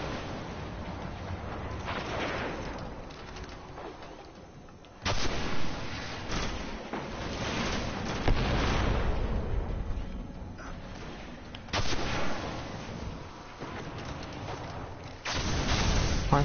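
Rapid game gunfire and heavy blasts from a Destiny strike on PS4, loud and continuous across the stretch with bursts surging every few seconds, some faint talk mixed under it.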